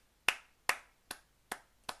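Five crisp hand claps spaced evenly about every 0.4 seconds, close and fairly quiet, the later ones a little softer, with no voices.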